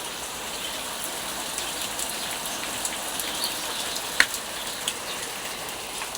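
Steady rain falls outdoors with a soft, even hiss, scattered with occasional closer drips and taps that stand out now and then; no voices are present.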